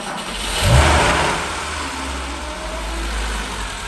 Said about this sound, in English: Polonaise has started, so we can go for a ride.